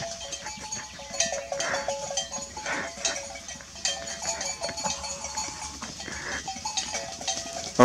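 A herd of sheep and goats moves along with bells clinking and clanking in an uneven jangle, mixed with occasional bleats, close and continuous throughout.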